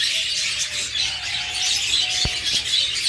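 Pet budgerigars, forpus parrotlets and lovebirds chirp in a cage, with steady high twittering, a few thin whistled calls and one sharp close click.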